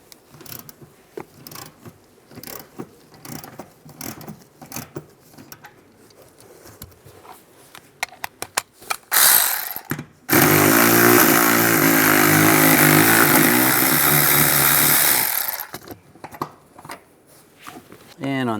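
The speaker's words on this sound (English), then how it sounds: "Now using an E14 socket, we're going to take this bolt out right here" Mechanical ratcheting and bolt-turning from an E14 socket loosening a center console bolt in a 2007-2013 Chevy Silverado, mostly sparse clicks under talk, with a loud dense burst of whirring for several seconds midway.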